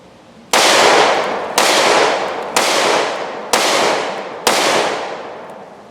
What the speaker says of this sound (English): Shooting it next to the standard M&P 10 millimeter, you can tell there is a lot of difference.